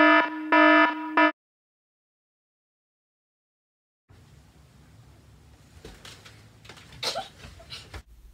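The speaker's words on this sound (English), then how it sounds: "And I usually hit snooze on my alarm like 8 times." An alarm clock buzzes in two short harmonic bursts at the start, then falls silent before soft rustling and low room noise take over.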